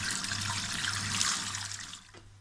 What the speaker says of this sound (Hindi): ऊपर से इसका ठंडा पानी डालेंगे। ठंडे पानी से इसको धो लेंगे।